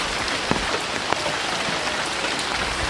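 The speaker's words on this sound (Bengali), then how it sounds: "আমি কিন্তু পুরোদ্দস্ত এই বৃষ্টিটাকে এনজয় করেছি" Heavy monsoon rain pours down on a village, a steady dense hiss with scattered sharper drops striking surfaces nearby, continuous and without voices.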